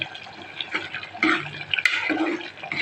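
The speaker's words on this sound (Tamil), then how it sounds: "வேர்க்கடலை கொஞ்சமாக அரைச்சி வச்சு ஊற்றிட்டேன் பாருங்கள்" Ground peanut paste pouring into a simmering cauliflower gravy in a pan, with wet splashing and glugging bursts and a few sharp clinks, close and fairly loud, no talk.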